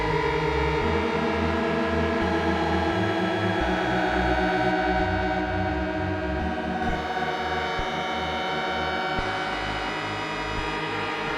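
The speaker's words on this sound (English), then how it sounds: "How's it sound with reverb and delay?" Dense sustained synthesizer tones with reverb and delay wash continuously, layered harmonics smeared into a long echoing tail, steady and loud with no talking.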